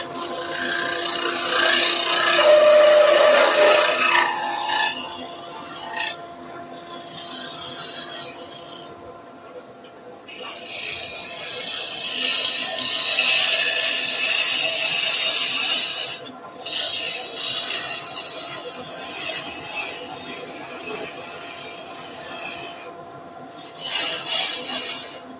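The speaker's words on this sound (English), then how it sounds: "We're going with the parting tool first, just to finish off the top and the bottom." A wood lathe parting tool cutting into a resin banksia apple gives a continuous rasping, scraping whir in long sustained passes with brief pauses between them, close and fairly loud, and no speech.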